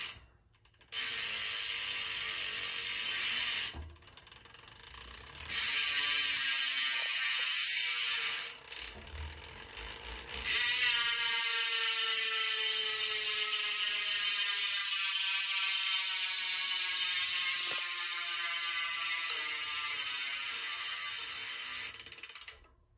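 Alaudark dirt jump bicycle rear hub freewheel ratchet buzzing loudly and close, in long sustained whirring bursts with brief pauses between them, slowing gradually as the wheel coasts down, with no talk.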